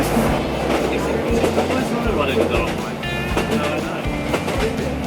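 A train pulls away on a wild Scottish hillside, wheels clacking rhythmically over the rails with low rumble and wind buffeting throughout, loud and close, with a faint high squeal near the end.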